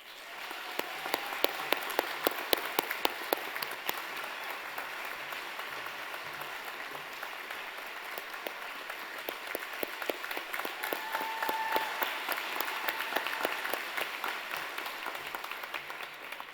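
An audience at an awards celebration claps steadily for instructors, a dense, moderately quiet round of applause that holds evenly for the whole stretch, with no talk over it.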